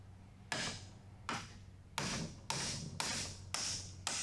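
A hammer strikes an old socket with sharp metallic taps to drive out a clutch throw-out bearing part on a John Deere MC crawler, seven evenly spaced blows that get slightly quicker, close and clear.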